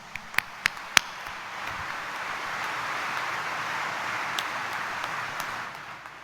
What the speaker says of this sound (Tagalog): itaas ang kamay at pumalakpak ng mas malakas